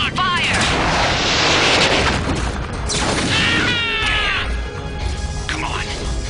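Mech weapons fire in MechWarrior 3, heavy booming shots and crashes in bursts with brief sweeping tones, loud and layered, with voices talking over the combat.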